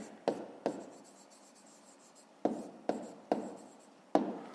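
Pen strokes on paper while working a fifth-grade math exercise, soft scratching punctuated by several sharp taps as marks are started, close and quiet with no talking.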